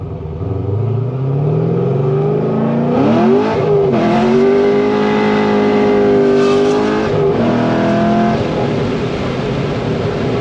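A cammed, catless Corvette Z06 V8 pulling away from a takeoff in third gear around 35 mph: a deep, close engine note that rises steadily, eases briefly, then holds a strong drone.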